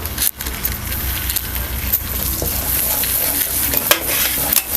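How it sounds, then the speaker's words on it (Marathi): Dabeli masala filling being sautéed and stirred in a pan, with a steady close sizzle and repeated scraping strokes of a spoon against the pan throughout. "आता सगळं आपल्याला असं परतून घ्यायचं"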